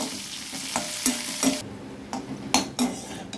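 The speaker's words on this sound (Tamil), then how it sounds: "அதை வந்து இந்த எண்ணெயில் போட்டு நல்லா வறுத்து விட்ருங்க சிம்மில் வச்சு வருங்க" Okra pieces frying in oil over low heat, a steady soft sizzle with a few sharp scraping stirs of a spoon against the pan, close and alone.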